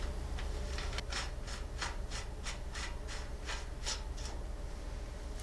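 A top lock nut being threaded clockwise onto a bicycle headset during an overhaul gives a run of about ten short, evenly spaced metallic rasping clicks over a steady low background, with no talk.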